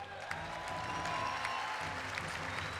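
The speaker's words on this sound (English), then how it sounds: "we should give a big round of applause for Team Revenge for an incredible performance" Faint, distant audience applause at a Call of Duty Championship esports event, a steady wash of clapping under a low arena rumble.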